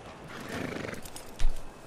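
A horse in the Red Dead-based WildRP game gives a short, close neigh with clip-clop hooves, ending in a louder snort-like burst.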